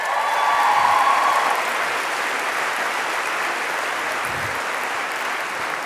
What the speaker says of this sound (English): Can I get a quick clap for them, please?